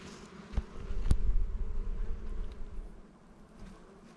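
Honeybees buzz in a dense, steady drone at a hive on heathland during a drought, with a couple of sharp taps; no voices.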